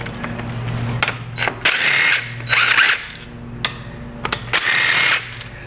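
A ratchet wrench loosens bolts on a Yamaha Big Bear 400 ATV in a few short bursts of rapid clicking, separated by brief pauses and small metallic clinks, close and fairly loud.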